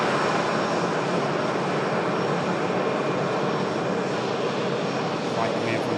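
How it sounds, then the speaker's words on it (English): A Ryanair jet arriving from Tirana passes with a dense, steady engine roar that fills the whole moment, loud and close, with a voice talking underneath. "Flight coming in from Tirana."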